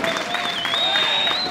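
A crowd applauds at a P2000 padel match in La Rochelle, a dense, steady patter of clapping heard close, with a sustained whistle-like tone running over it.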